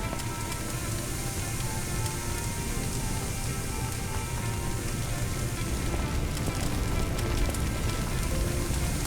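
A fire hose sprays water onto flames in Firefighting Simulator, a steady, close, rain-like hiss and spatter that holds constant throughout.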